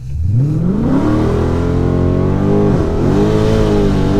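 A 2014 Mercedes C63 6.2-litre V8 roars at full throttle, pitch climbing steeply then holding high with a brief dip, loud and close throughout.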